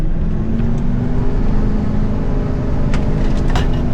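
A heavy dually pickup truck fitted with a new turbo accelerates with a loud, sustained engine roar that rises gradually in pitch, with brief hissy turbo whooshes near the end and no talking.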